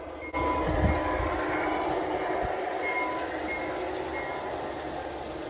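Three G scale model diesel locomotives, two GP9s and a GP30, push a boxcar along an outdoor garden railway, giving a steady rolling rumble of wheels on track with a faint high squeal, moderately near and without talk.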